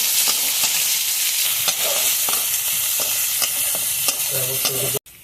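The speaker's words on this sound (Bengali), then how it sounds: "পেঁয়াজ কুচি রসুন কুচি ঢেলে দিচ্ছি" Chopped onion and garlic frying in hot oil in a karahi, a loud continuous sizzle with rhythmic scraping stirs, ending in an abrupt clatter and cut.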